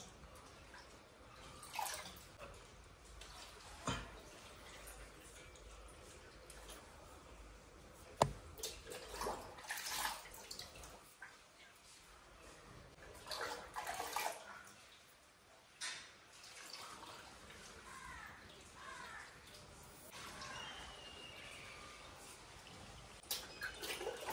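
Water is poured onto potted plants, including a money plant, with soft trickles, drips and splashes coming in irregular bursts. The sound stays fairly quiet and close, with short gaps between pours.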